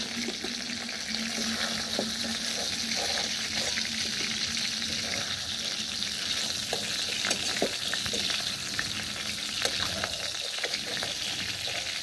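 Fish fries in oil for a Bengali fish curry, a continuous close sizzle with scattered crackles and spits running steadily throughout, with no talking.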